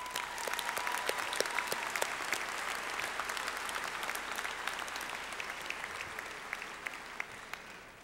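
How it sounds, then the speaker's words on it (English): Audience applause at a spring 2012 undergraduate commencement ceremony, sustained clapping from a large crowd, even and continuous, with occasional sharper individual claps standing out near the end. "Let's give them a round of applause."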